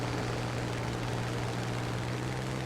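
Spitfire LF Mk IX propeller fighter in War Thunder, a steady droning engine with a constant low hum, loud and unbroken, climbing with no voices over it.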